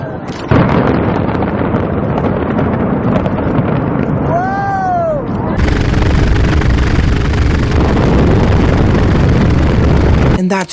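A tall residential building is brought down by full implosion demolition: loud, deep blasts give way to a sustained roaring rumble with a descending whistling tone partway through.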